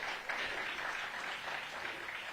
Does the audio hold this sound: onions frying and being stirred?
no